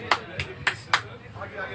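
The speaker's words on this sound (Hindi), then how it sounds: "और जिसने भी वादा किया हो वो सब जरूर ताली बजाएगा" Audience at a Hindi poetry recital claps in four sharp, evenly spaced bursts, close and crisp, followed by a softer murmur.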